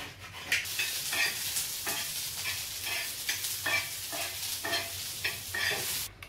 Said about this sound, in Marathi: तर मस्त तव्यावर थोडंसं मी तेल टाकणार आहे आणि ते भाजायला ठेवणार आहे कॉर्न.